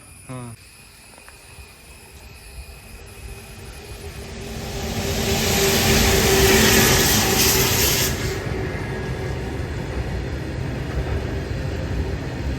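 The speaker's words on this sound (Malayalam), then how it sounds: "ഇപ്പം ഗുഡ്സാണ് പോകുന്നത്" A long goods train rumbles past, growing to a loud roar midway before settling into a steady clatter.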